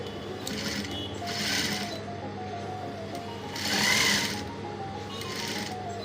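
A sewing machine runs in short bursts while stitching a senator-style pocket, its whirring rising and falling over about six seconds with brief pauses between runs.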